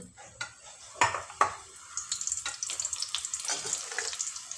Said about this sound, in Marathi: हे पण व्यवस्थित दोन्ही बाजूने फ्राय करून घेऊ चांगले आलटून घेऊ